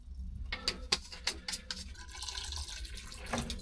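Coolant poured into the radiator of a Kubota RTV 900 utility vehicle, a soft continuous splashing and trickle of liquid with a few faint clinks near the start, quiet and close.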